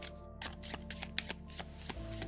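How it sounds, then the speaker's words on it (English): Game cards for Bosk or Bandada riffled and shuffled close by, a quick series of crisp flapping riffles and soft taps over a steady low background hum. "Shuffle these up"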